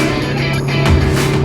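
A 2016 Alfa Romeo Giulietta Veloce with a 1.8 TBi 16V turbo engine producing 176 kW accelerates on a countryside road, a loud, steady engine hum that briefly swells as it drives.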